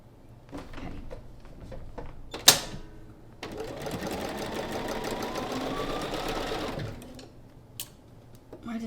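A sewing machine stitching a quilt block runs in one steady whirring burst of several seconds, preceded by a sharp clack and small handling noises, with a few light clicks after it stops.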